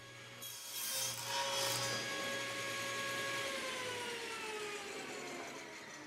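A wooden side support piece for a tenor guitar is trimmed square at one end in a guitar-building shop. One continuous cut runs for several seconds, with a steady rasping bite and a ringing blade tone that slowly falls, close and alone.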